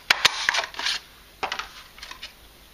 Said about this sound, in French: je retourne ma perforatrice pour voir où je coupe